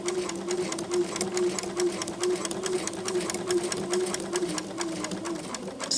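A dual feed sewing machine stitches quilting fabric with a fast, steady rhythmic chatter over a low motor hum, close and continuous throughout.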